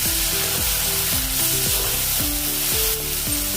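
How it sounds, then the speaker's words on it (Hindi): Tomatoes frying in a hot pan, a loud continuous sizzle and hiss running throughout with a stepped melodic tune playing over it, no voices. "अभी इसमें टमाटर डाल देंगे। इसको भी 2 मिनट भुनेंगे।"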